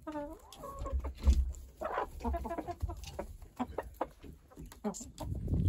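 Chickens on a farm during a snowstorm cluck in a dense, fairly quiet jumble of short calls, close and continuous over the whole stretch.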